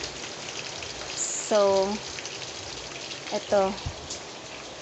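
Heavy rain falls in a steady, dense hiss during a flooded rainy day at home, while a person talks briefly over it.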